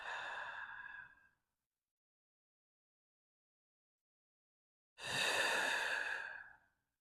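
Two slow, deep breaths during hatha yoga practice, one exhale fading out and a long airy inhale after a few seconds of silence, heard close and soft.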